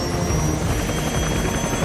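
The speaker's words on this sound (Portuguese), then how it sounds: "É agora mesmo que é o helicóptero" Helicopter in the video game Metal Gear Solid: Peace Walker, a loud, steady rotor drone and hum that continues unbroken without speech.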